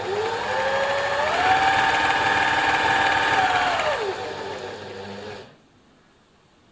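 A serger overlocker sewing machine runs steadily for about five seconds, chaining off thread with a fast, even mechanical whir, then stops and leaves near silence.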